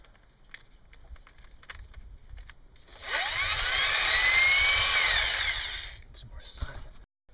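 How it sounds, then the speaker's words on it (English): An angle grinder cuts metal while a cart is being built, spinning up to a loud, sustained whine for about three seconds before winding down, with quieter workshop clatter before and after. "But I've got an angle grinder and some skills of persuasion."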